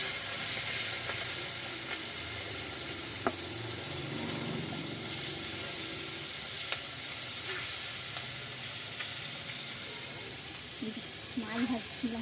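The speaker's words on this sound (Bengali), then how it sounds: "মাছ ভাজছিলাম" Fish frying in a pan at home, a steady hiss and crackle of hot oil running throughout at moderate level, with a few faint clinks and a brief voice near the end.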